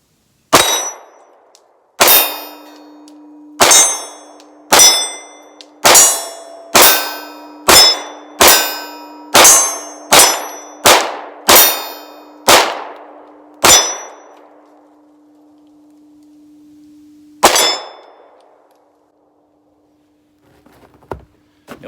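Taurus G3x pistol fired fourteen times at a steady, slow-to-rapid pace, each sharp loud crack followed by a metallic ring, then one more shot after a pause and faint clatter at the end.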